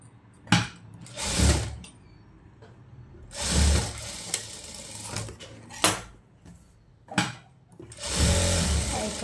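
A tailoring sewing machine joins silk skirt fabric pieces in short bursts of fast whirring stitching, separated by quiet pauses. It sounds close and fairly loud, with no talk.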